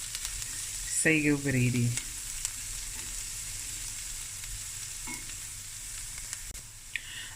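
Onions frying in a pot for a Cape Malay sago stew, a steady low sizzle running the whole time, with a short spoken phrase early on and a few light utensil taps later.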